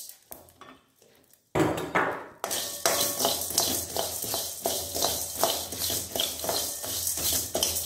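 Rice and peanuts tip into a hot pan of frying lady's finger (okra), starting with faint clinks before a loud rush and then continuous sizzling and scraping of a spoon against the pan.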